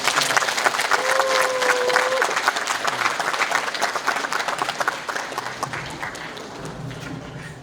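Sustained applause from a large audience at a church Bible school drama contest, steady dense clapping at full strength from the start that gradually thins and softens toward the end, with a brief faint whistle-like tone early on.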